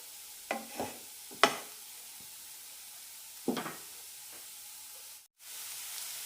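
Bitter gourd stir fry tossed in a pan over medium flame gives a few short scraping, sizzling bursts of stirring spaced out over a quiet steady hiss, with no talking.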